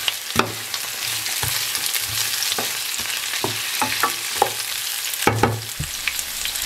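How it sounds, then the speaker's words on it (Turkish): Peppers and other vegetables sautéing in a pan, with a steady bright sizzle and a run of irregular spatula scrapes and knocks, close and with no voices. "biberlerle birlikte diğer sebzeleri de kavurdum"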